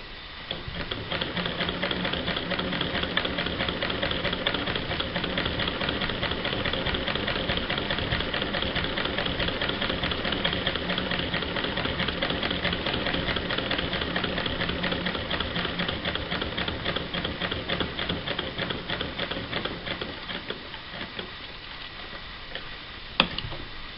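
A 1916 Singer 99K sewing machine fitted with an underbraider runs steadily for about twenty seconds, its fast, even clatter of stitches close and continuous, then slows and stops with a small click.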